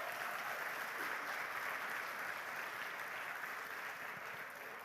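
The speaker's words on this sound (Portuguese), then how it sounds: "Você pode dar um aplauso ao Senhor?" A church congregation applauds the Lord, steady sustained clapping from many hands filling the room at an even level, with no talk over it.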